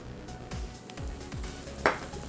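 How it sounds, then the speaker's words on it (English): A homemade bath bomb mixture of dry powders with a little liquid is stirred quickly in a bowl, making a soft, steady scraping and crackling texture with one brief louder knock. "stir quickly. And you can see this mixture starting to stick together"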